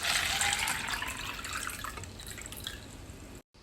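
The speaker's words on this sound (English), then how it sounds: "measure 400 milliliters of water into your measuring cup and pour it into the plastic cup" Water is poured from a measuring cup into a plastic cup, a close, steady splashing trickle that fades gradually over about three seconds before stopping abruptly.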